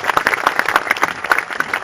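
Audience applause at a Hindi poetry recital, a short burst of dense, fairly close clapping with distinct individual claps standing out, steady throughout and without talk.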